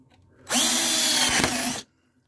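A power drill with a sharpened bit bores through acrylic plexiglass in one loud, harsh whine lasting just over a second, then cuts off sharply into quiet.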